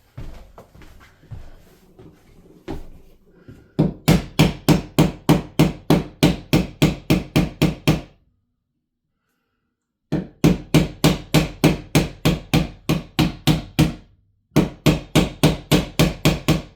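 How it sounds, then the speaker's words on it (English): Steady hammer taps on a fixture during bedroom ceiling light installation, coming in three quick rhythmic bursts of about a dozen sharp, loud strikes each, separated by short silences, after a stretch of quieter handling noise. "grab a hammer and tap that a bit."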